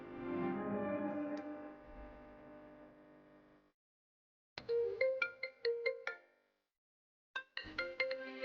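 A phone ringtone signals an incoming call in a Tamil TV serial scene: a sustained tonal chime fades out, then after a pause come bright, rhythmic melodic pulses that stop and start again, with no talking.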